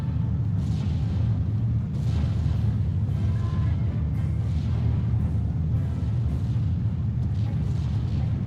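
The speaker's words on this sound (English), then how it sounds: "His units are going to suffer from this artillery." Distant artillery fire in Steel Division, a World War II strategy game, as a steady low rumble of overlapping booms and thuds under continuous battlefield noise.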